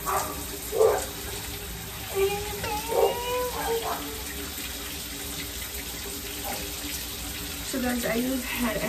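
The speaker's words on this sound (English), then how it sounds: "Now I'm gonna go shower." Shower water runs steadily as a broad, constant hiss, with a few faint knocks and scattered background sounds layered over the flow.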